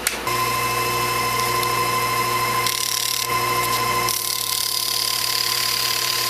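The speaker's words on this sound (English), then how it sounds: "I'm sanding away the little burrs on the outside of that hole." A steady motor hum of a spinning lathe with cloth-backed sandpaper rubbing against a steel rod, deburring a hole, continuous and close, shifting slightly in texture partway through.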